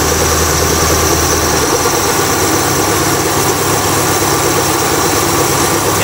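A carbureted Mazda 323 engine idles steadily right after carburetor tuning, with the mixture screw and timing adjusted. The idle is loud, close and even, a continuous rumble throughout, with no talking.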